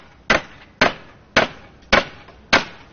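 A hammer drives a nail into wood for woodworking, five sharp, evenly spaced strikes about half a second apart, each a crisp close knock that fades quickly.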